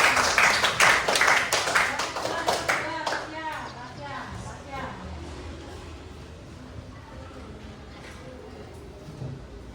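Children in a classroom clap together, loud rapid claps for about three seconds that then thin out into scattered taps as voices and room noise take over.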